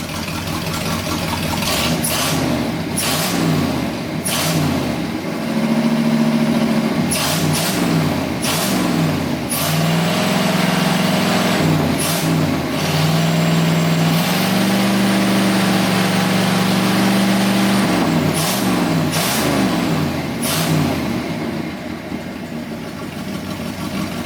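An abandoned Ford F100 pickup with a radiator leaking fluid runs near and loud, a rough idle broken by a string of repeated throttle blips and revs throughout.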